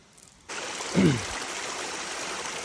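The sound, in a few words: flowing water in a cardamom garden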